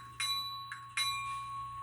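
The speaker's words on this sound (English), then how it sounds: "Yep, that's an air bell." A Kato SDP40F model locomotive's ESU LokSound decoder air bell rings three times, each strike followed by a hissy ringing tail, over a faint steady hum.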